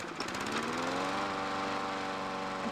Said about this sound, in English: I cannot pull on the rope of a lawnmower and have it just start up for me